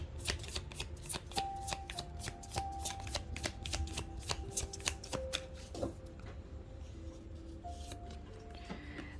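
Tarot cards being shuffled by hand, a dense run of quick crisp riffling clicks for most of the stretch, close up, with a couple of brief pauses and no talk.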